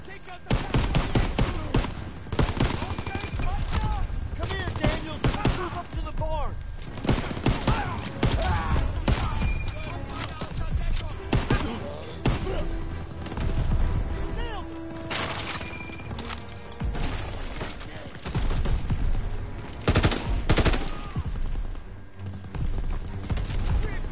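Heavy anti-tank gun fire from German Pak 38 guns in a World War II shooter game, with booming shots and crackling gunfire running continuously beneath loud battle noise and shouted voices throughout.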